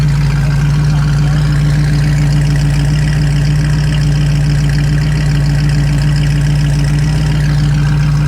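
A 1965 Mustang convertible engine idles steadily with a deep, even rumble and a faint rhythmic rubbing rattle from the exhaust, continuous and close.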